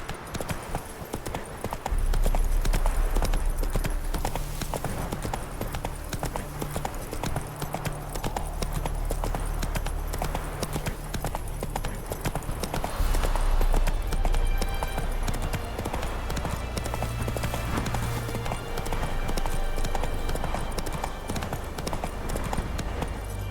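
Roach the horse's hooves clip-clop steadily in The Witcher 3, a continuous close trotting rhythm with game music and ambience underneath, loud and persistent throughout.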